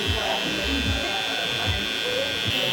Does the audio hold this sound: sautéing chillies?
no